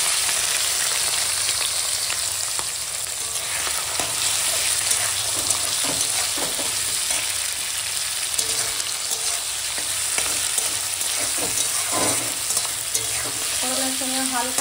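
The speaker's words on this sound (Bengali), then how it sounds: "এখন দিয়ে দেবো নুন হলুদ মশলা চিংড়ি।" Shrimp frying in hot oil with salt, turmeric, spices and nigella seeds gives a loud, continuous sizzle, with a spatula scraping and stirring in the pan throughout.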